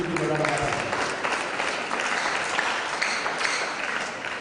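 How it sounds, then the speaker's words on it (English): An audience claps in steady, sustained applause at a secondary school quiz competition, dense and even throughout, with a voice faintly audible over it. "Please give me a round of applause."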